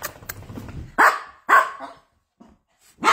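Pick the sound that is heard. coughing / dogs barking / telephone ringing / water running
dogs barking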